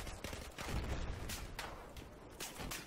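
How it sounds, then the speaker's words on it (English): RPG rocket launcher and gunfire in a military shooter video game, with a dense barrage of blasts and sharp bursts crowding together at moderate loudness. "And my RPG just disappears after I shoot it"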